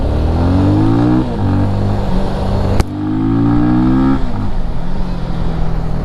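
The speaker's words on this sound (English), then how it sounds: "let's start our test ride for the Benelli 251" A Benelli TRK 251 motorcycle engine on a test ride, revving twice in rising pulls that each climb in pitch and then drop back to idle, loud and close.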